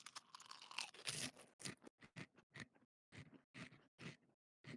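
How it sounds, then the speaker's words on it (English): Someone munching on chips close to the mic, a run of crisp, separate crunching bites in an irregular rhythm with short silent gaps between. "While you're munching on some chips."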